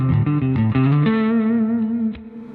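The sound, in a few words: electric guitar through overdrive pedal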